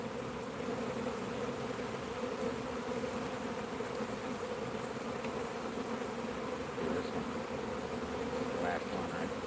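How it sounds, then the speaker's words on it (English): A package of honeybees, young bees and foragers mixed, buzzes in a dense, steady hum close by, continuous and moderately quiet throughout. "There's so many nice young bees in there and foragers, a nice mix"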